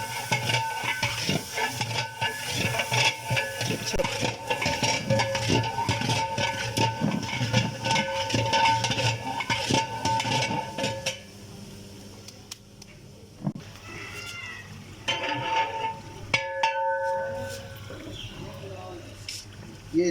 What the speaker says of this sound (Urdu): اب ہم اس کو تھوڑی دیر کے لیے بھونیں گے